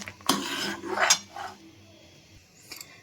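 A metal spoon stirs Amul powdered milk in a pot or bowl for carrot rasmalai, making a few scraping clinks against the vessel, close and clear with pauses between strokes.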